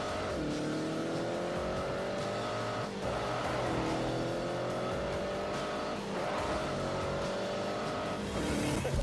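A race car in The Grand Tour video game drives hard through a bend, its engine droning in rising and falling gear pulls, with tires squealing and skidding as it corners; loud and continuous, no talk over it.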